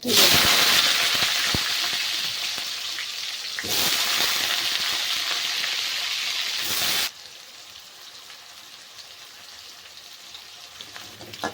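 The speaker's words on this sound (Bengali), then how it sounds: "দিয়ে দেবো একটা তেজপাতা কয়েকটা আলু আমি" Potatoes and a bay leaf with cumin seeds crackle in hot oil, a loud steady broadband sizzle that surges again midway, then drops to a quieter simmering hiss with occasional pops near the end.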